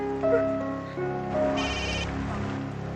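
A telephone rings with a steady electronic tone over a bed of background music, fairly close and continuous.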